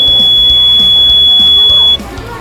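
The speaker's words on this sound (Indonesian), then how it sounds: "Ketika ada asap yang menyentuh gas sensornya, maka alarmnya akan berbunyi" A smoke detector alarm sounds a loud, steady high-pitched tone that cuts off after about two seconds, over background noise with people talking.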